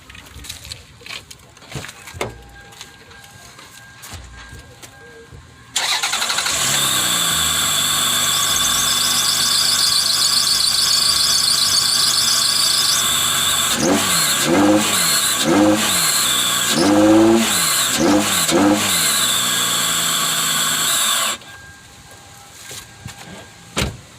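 A car fitted with a new cold air intake cranks and starts, then runs steadily and loud with a high squealing whine. Several blips of revving follow before it shuts off, with faint background noise before and after.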